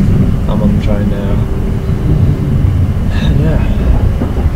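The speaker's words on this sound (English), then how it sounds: "I'm on the train now" A continuous low rumble inside a moving train cabin in Iceland, loud and steady, with a person talking over it.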